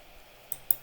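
Two quick sharp clicks of a computer mouse in close succession, close and crisp against quiet background hiss.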